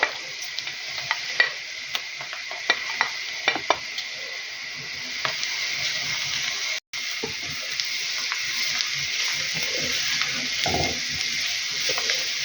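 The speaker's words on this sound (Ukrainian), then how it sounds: "Нехай морква тепер з цибулею трошки підсмажиться" Carrots and onion fry in a pan with a steady hiss and sizzle, broken by small clicks and scrapes of stirring; no one speaks.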